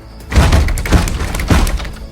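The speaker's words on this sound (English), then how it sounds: "He bangs on the door" A fist pounds on the locked front door of a church, heavy thuds landing near and loud in a short burst, with a louder blow near the end.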